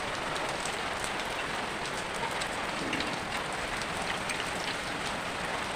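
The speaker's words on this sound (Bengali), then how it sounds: "বাইরে পড়ছে অঝরে বৃষ্টি" Heavy rain pours down steadily, a dense, unbroken hiss of drops drumming on surfaces, with no voices.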